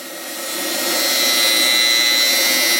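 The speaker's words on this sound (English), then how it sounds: "I'm running the long boards, the main part of the table, through the drum sander" A loud, steady machine drone with a high whine ramps up and holds as a drum sander grinds along long wooden tabletop boards.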